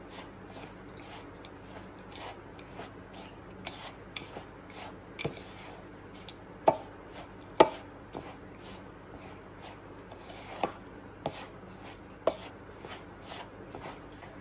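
Semolina (rawa) filling for Goan nevryo being mixed by hand with sugar in a bowl, a quiet soft shuffling and rubbing with a few sharper clicks and taps scattered through, close and low.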